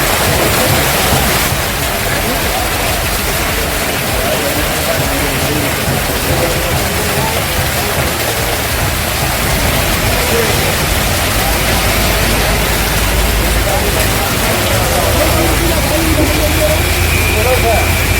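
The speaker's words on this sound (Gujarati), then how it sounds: "કેવો વરસાદ છે" Heavy rain pours steadily during a walking pilgrimage to Ramdevra in Rajasthan, a dense, loud broadband wash that stays constant throughout with no break.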